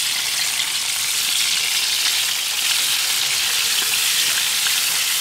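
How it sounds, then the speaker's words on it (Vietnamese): Earthworms sizzle steadily in a frying pan, a dense, even crackle of hot oil that holds at one close, fairly loud level for the whole stretch without pauses or voices. "Sau khi địa long đã sạch thì sẽ cho vào chiên nhá."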